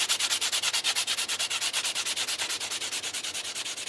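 A coin ring is sanded by hand with a sanding block, a quick, even rhythm of dozens of close, rasping back-and-forth strokes with no talking.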